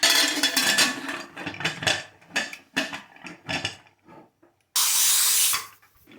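Lid going onto a pressure cooker pot of beef khichuri, a series of close metallic clanks and scrapes followed by a short, loud burst of hissing.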